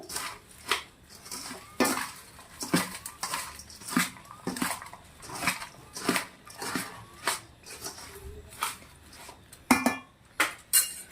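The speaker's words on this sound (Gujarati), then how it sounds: "હવે આપણે સરસ આને મિક્સ કરી દેશું" Jhalmuri, Bengali spiced puffed rice with fresh green peas, being mixed in a bowl, giving a steady run of rustling tosses and clinks of spoon against metal.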